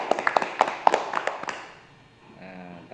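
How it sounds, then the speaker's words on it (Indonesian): A handful of sharp, scattered claps from a small group of schoolchildren in an online fourth-grade lesson, lasting just over a second before fading and giving way to a voice speaking. "Tepuk tangan untuk kelompok bunga."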